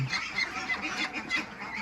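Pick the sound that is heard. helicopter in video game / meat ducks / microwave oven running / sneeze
meat ducks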